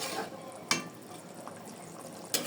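A pigeon and potato curry simmers as its broth boils down, giving a soft, steady bubbling hiss with a few sharper pops and clicks, faint and close.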